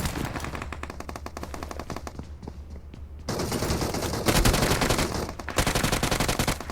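Rapid, loud automatic gunfire from the battle royale game PUBG Mobile, with continuous rattling volleys, a brief lull of a few scattered shots, then heavier sustained bursts up close.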